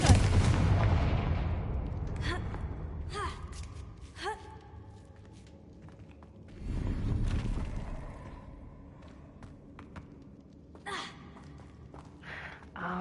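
A fire-blasting spell fired in a fantasy wizarding video game, with a deep booming burst near the start and a second heavy blast midway, plus smaller crackling impacts over a low rumbling game backdrop.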